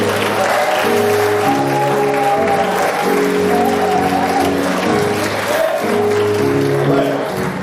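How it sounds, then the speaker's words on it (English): A steady round of applause from the audience at the Black Diamond Awards 2024 ceremony, dense clapping holding for several seconds with sustained tones underneath. "Let's give a quick round of applause for all the recipients that we have here."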